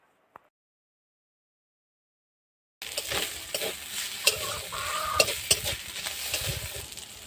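Chopped green chillies hitting hot oil with ginger and garlic, a sudden loud sizzle after a near-silent pause, then continuous frying crackle with a few stirring scrapes of the pan.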